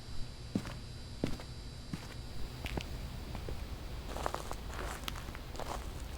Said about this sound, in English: I heard a footstep just to my left.